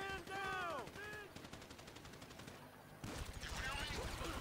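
Gunfire in the crime video game GTA V Online rattles in rapid bursts throughout, with a voice shouting at the start and continuous shots close and loud.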